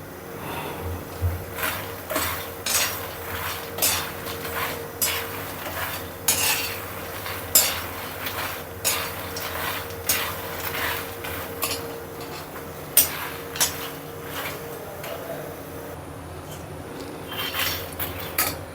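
Food being stirred and roasted in a pan over a low flame, a spoon scraping and clinking against the metal at a steady, unhurried rhythm, close and fairly quiet.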